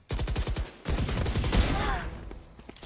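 Sheriff pistol shots in a Valorant match, sharp loud reports with a commentator's voice talking over the busy gunfire and game noise throughout.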